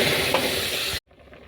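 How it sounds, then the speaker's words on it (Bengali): Semolina frying and being stirred in a pan for a sweet semolina dessert, a steady dry sizzle and scrape for about a second that cuts off abruptly into near silence. "সুজিটাকে ভালো করে এভাবে ভেজে নেব, যেন লাল না বেশি হয়ে যায়"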